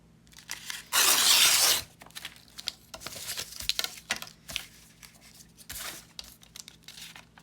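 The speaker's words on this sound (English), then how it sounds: "So we're just gonna tear this." Dotted journaling paper is torn in one loud, close rip lasting under a second, followed by softer crinkling and handling rustles of the sheet.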